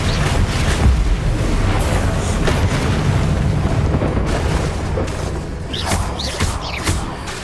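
Confringo spell explosions in a video game, cast repeatedly during a fight: loud, continuous booming with dense blasts and thuds piling up over several seconds.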